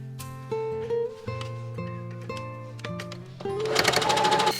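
A sewing machine stitches fabric around a dress pocket, running in short bursts with a steady mechanical hum and clatter, pausing briefly at pivots, then speeding up louder near the end, close by.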